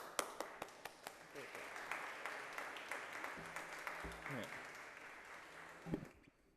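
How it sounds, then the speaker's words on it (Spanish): An audience applauds to welcome Dr. Flavio Rodríguez at a Jurado Nacional de Elecciones event in a hall. A few sharp claps start it, the sound swells into steady moderate clapping with some background murmur, then cuts off abruptly. "hay que recibirle con un cordial aplauso al doctor Flavio Rodríguez"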